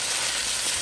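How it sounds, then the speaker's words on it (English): Ground beef sizzling in a hot pan, a brief dense hiss of frying, steady and close with no voices over it. "now we're going to add the ground beef"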